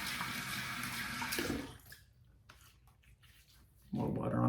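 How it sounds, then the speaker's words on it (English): Water splashes and sprays up close onto a face during a wet shave with a DE Karve razor, a loud hissing burst that stops, leaving quiet handling noises before another splash of water starts. "More water on the face there."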